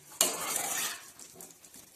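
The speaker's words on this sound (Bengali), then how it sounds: "এবার এর মধ্যে আমি চিংড়ি মাছগুলো দিই" Raw prawns go into a pan of boiled, frying potatoes: a sharp clatter and burst of sizzle, then a softer sizzle under light scraping and stirring close by.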